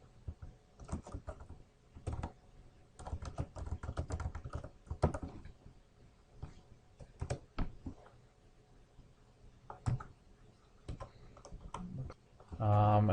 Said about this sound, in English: So I type that into the router.